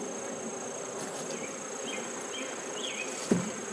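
Small swarm of bees buzzing softly and continuously nearby, a faint even hum with occasional louder passes.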